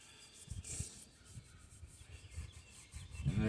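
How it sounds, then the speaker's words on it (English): A sheet of 600 grit sandpaper rubbed by hand across the head area of a 1957 Chevy Bel Air 283 V8 engine block, giving a faint, steady scratchy rasp in repeated short strokes, close and alone. "you have to do it with a sheet of 600 grit sandpaper would work just fine"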